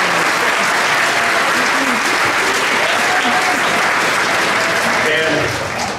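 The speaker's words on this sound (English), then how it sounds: "So let's give all those people a round of applause." An audience applauds after a sixth-grade band's Christmas concert: loud, sustained clapping from a full room, with voices calling out over it before it begins to fade at the end.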